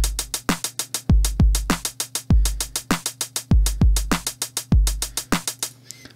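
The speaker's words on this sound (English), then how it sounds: "I put in a hi-hat sound." Programmed drum pattern from Groove Pizza software, with booming kick hits and crisp hi-hat ticks filling every gap in a steady, quick looping rhythm, close and dry with no voices.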